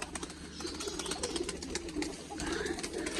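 Pigeons of a breeder's flock coo softly in a steady, low murmur, several birds overlapping at close range. A constant hiss of background noise runs underneath, with no talking.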